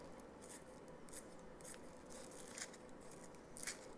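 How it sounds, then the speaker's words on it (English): Scissors snip through fresh lemongrass stalks for tea, about five or six crisp, quiet cuts spaced irregularly, close up and with no talking. "to make it easier for us for the lemongrass, I'm using scissors."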